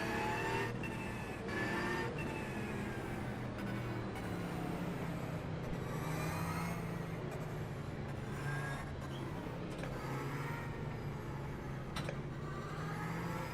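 NASCAR Ford Mustang race cars roar around the Homestead Miami circuit, a dense, continuous engine drone with repeated passing surges and shifts, heard at moderate distance with no talk.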